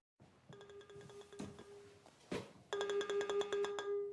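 A cell phone rings in a Scream 7 horror movie scene, a few soft tonal notes at first, then a louder sustained run of repeated ringtone pulses, with a couple of knocks or thuds in between.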